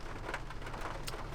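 Steady rain falls on a lake after a thunderstorm has passed, heard from a canoe as a constant soft hiss of drops with no thunder left, even and unbroken throughout.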